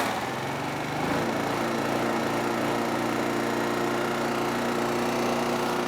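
A Yamaha EF3000iSEB generator engine, freshly reassembled after carburetor cleaning, catches and settles into a steady, even running hum that stays loud and constant with no talk.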